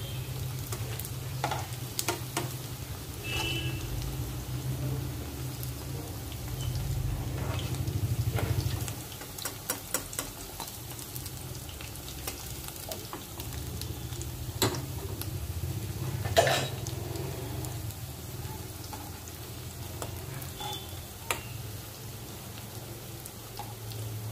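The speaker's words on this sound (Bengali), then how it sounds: "একটু লো করে একটু হাই করে এই জন্য ভাজছি যে ওপরটা পুড়ে আর ভেতরটা কাঁচা কাঁচা না থেকে যায়।" Bottle gourd (lau) koftas fry in oil over heat switched between low and high, giving a quiet, steady sizzle that swells and eases, with scattered light clicks and taps.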